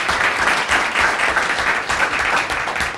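Loud, full applause from a panel discussion audience honoring the Hydes, dense and close, with rhythmic swells in the clapping throughout and no talking.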